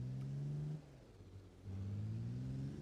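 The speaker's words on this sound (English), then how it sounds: "It's got a nice throaty V6, I believe it is." A modified car with a throaty V6 revs twice, each deep, droning rev held steady, with a quieter idle dip between them, heard alone at a distance without voices.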